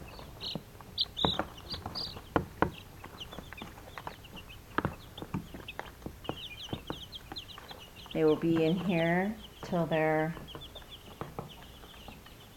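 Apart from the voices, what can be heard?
young meat chickens and turkeys clucking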